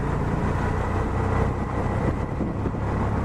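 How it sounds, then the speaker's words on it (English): Steady rumbling engine and road noise from a motorcycle taxi ride, loud and continuous throughout with no voices. "I'm in a motorcycle taxi."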